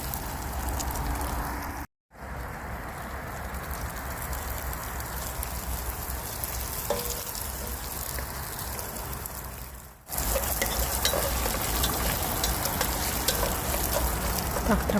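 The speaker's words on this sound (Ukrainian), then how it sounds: "То щось дуже сильно активно смажиться." Steady loud sizzling and crackling of pork cracklings frying in a pan outdoors, close up, with two brief dropouts before the crackle continues.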